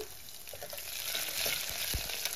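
Mustard seeds, cumin, dried red chilies, curry leaves and garlic frying in hot oil for a dal tempering, a soft, steady crackling sizzle with faint pops and a dull low knock near the end.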